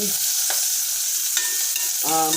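Garlic sautés in a hot pan with a steady close sizzle, broken by a few stirring scrapes and a brief clink near the end.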